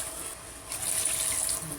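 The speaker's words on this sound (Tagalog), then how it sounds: "Ayan tubig." Water pours steadily from a tap into a cooking pot with a hissing, splashing rush that grows slightly fuller partway through, close by and fairly loud.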